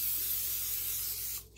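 Cooking spray hisses onto flaky layer biscuit dough in a steady, close, loud burst lasting over a second before cutting off abruptly, with no talking.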